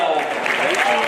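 An audience at a toro piscine bullring pool show in Le Crès applauds, a dense, loud wash of clapping with voices mixed into the crowd noise.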